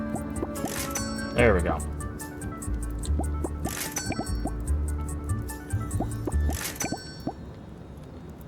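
Glass vials being filled with water in the farming game Mask of Moonstone Island, heard as short wet drips and squishy plops repeating through the clip, under a speaking voice and background game music.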